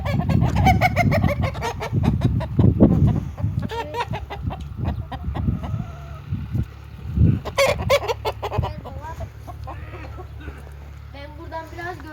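Hens cluck and call repeatedly in a henhouse during egg collection, close and fairly loud, with overlapping bursts of clucking throughout and people speaking at times.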